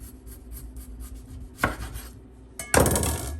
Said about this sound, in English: Cut the bottom of it.